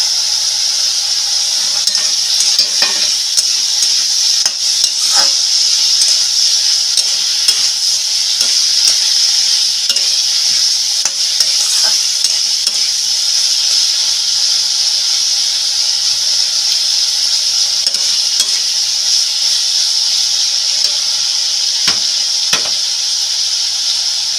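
Salt- and turmeric-coated shrimp with grated ginger frying in hot oil, a loud, steady, close sizzle and hiss going on for a long stretch, with scattered faint scrapes from stirring and no voices.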